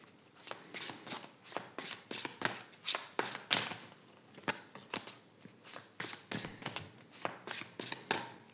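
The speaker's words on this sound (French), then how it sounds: "je vais faire une coupe et je vais prendre 3 cartes" A deck of tarot cards being cut and shuffled by hand, a rapid series of crisp riffling slaps and flicks in irregular bursts, close and fairly quiet, with no voice over them.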